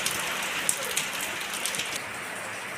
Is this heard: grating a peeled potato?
no